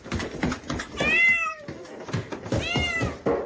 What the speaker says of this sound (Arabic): اذهبي من هنا أيتها القطة القبيحة.